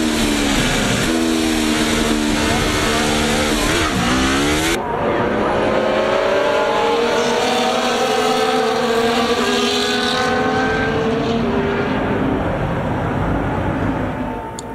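Formula 1 cars in the F1 24 video game rolling back to the grid before a race start, engine drone loud and continuous, with a high whine dropping in pitch midway and several overlapping engine tones sweeping up and down afterward.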